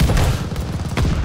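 Rapid gunfire in the video game Call of Duty: Vanguard, a short loud burst of several quick shots close together.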